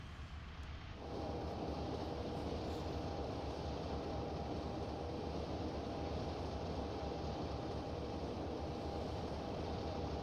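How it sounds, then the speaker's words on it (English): In a train simulator set on the Western Lines of Scotland, a train starts to move. After about a second of quiet, a steady loud rumble and hum sets in with a faint high whine, continuing without talk. "We'll see when this train starts moving."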